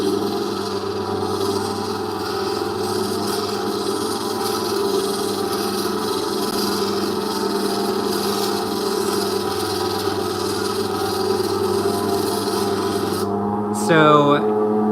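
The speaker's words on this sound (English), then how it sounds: "So I'm slowly smoothing it out and polishing it." A stone cabochon is polished by hand on grit polishing pads, a steady close rubbing and rasping drone that continues without break under a constant background hum, ending with a brief louder scrape.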